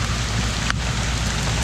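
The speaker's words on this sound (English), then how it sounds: "Look at the hail balls." Hail falling during a thunderstorm in Pennsylvania, a dense, steady patter of stones striking surfaces nearby with no break.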